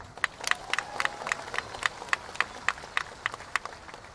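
Audience clapping during a political party leader's speech at a national leadership meeting, a steady patter of scattered hand claps at moderate distance with sharper individual claps standing out, without speech.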